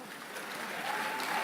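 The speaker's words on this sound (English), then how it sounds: "Let's clap for ourselves." Packed concert room audience clapping for themselves, a steady wash of many hands building slightly in loudness over a second and a half, fairly distant, with no clear speech.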